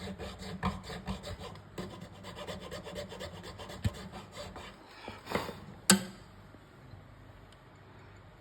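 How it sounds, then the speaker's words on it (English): A nut file rasps back and forth in the A string slot of a guitar nut, a quick run of short, close strokes with a sharper scrape near the end, then quieter. "We'll use the A nut file."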